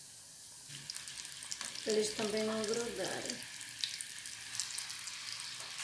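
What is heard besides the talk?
potato balls frying in a small pan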